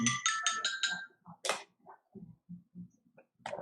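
A phone ringtone plays a short repeating melodic burst, fairly loud and near, in a workshop or garage setting during a recorded show, followed by a sharp noise and a person talking briefly afterward.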